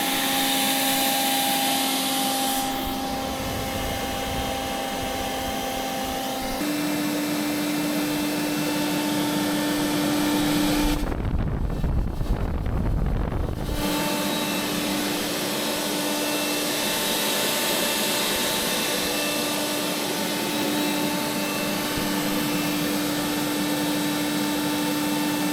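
Steady loud whooshing roar of a leaf blower forcing air through the body of a C6 Corvette Z06, with a pitch shift partway and a brief, harsher, more intense burst in the middle, no talking.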